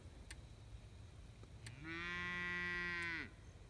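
Heifers in a farm development pasture, one cow letting out a single loud, drawn-out moo of about a second and a half, close by against quiet outdoor background.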